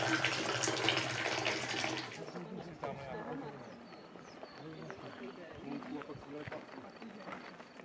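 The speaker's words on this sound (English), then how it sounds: "a stop in a Berber house for tea poured in traditional manner." Tea poured in the traditional Moroccan manner inside a Berber house: a steady splashing stream of liquid in the opening two seconds, then quieter clinks and movement with people talking.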